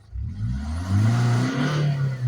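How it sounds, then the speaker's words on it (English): A Land Rover Freelander engine, recently fitted with a resealed fuel pump, is revved hard in a workshop, its roar climbing and holding loud and close for a couple of seconds with some rattling clatter underneath. "she's revving so hard the camera's going out of focus"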